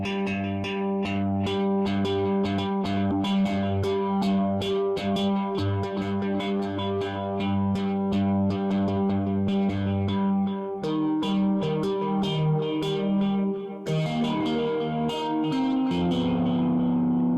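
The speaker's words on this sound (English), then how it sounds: "a guitar sample sent to a phaser, a scream, and a reverb" A heavily processed guitar sample in Reason 5, with sweeping phaser swirl, gritty Scream distortion and a long reverb tail, playing continuously and loud with a shift partway through.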